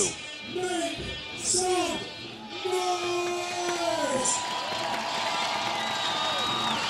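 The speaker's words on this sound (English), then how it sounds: "You can hear the crowd in the background on their feet" A crowd on its feet cheers and whoops at a BMX freestyle park World Cup final in Croatia, swelling in bursts amid an arena's din while an announcer's voice carries over it.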